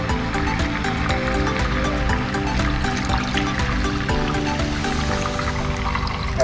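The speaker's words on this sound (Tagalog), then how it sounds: "ang susunod ay lalagyan natin siya ng tubig." Water pours steadily into a cooking pot while Filipino beefsteak (bistek tagalog) is being prepared, a continuous splashing, trickling stream with a constant level from start to finish.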